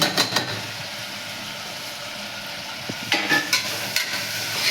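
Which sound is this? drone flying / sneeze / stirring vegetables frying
stirring vegetables frying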